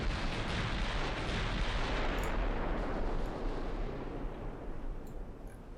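Naval gunfire from warships in the Ultimate Admiral: Dreadnoughts battle at the Denmark Strait, a dense sustained roar of heavy cannon blasts and rumbling explosions, loud throughout and easing slightly toward the end, with no voices.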